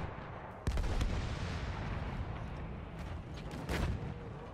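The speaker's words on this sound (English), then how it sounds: "I hear people sniping" Battlefield 1 gunfire, a sharp loud crack followed by rumbling echoes, then a second heavy shot with a trailing boom over continuous battlefield noise; no talking.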